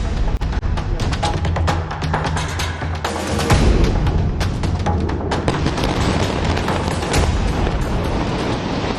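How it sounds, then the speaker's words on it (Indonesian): Explosions from Israeli strikes on residential buildings in Gaza: a loud, continuous barrage of booms and crackling blasts, with a heavier low rumble after the midpoint, dense and unbroken throughout with no voices. "dengan ledakan besar"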